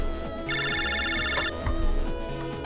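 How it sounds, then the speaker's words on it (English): An electronic telephone ringtone chimes in the video game Mega Man Battle Network 3, a bright repeating pattern lasting about a second over the game's steady background music, followed by a low thud. "a phone call from Dex!"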